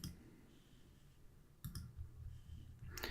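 A couple of computer mouse clicks at a desk, sharp and brief against a low background hum, close and faint with no speech.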